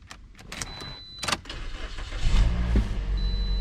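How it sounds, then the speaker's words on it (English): A Honda CR-V started with the key: a few faint clicks and a short whir, then the engine catches and settles into a steady, close idle rumble. "It'll start the car."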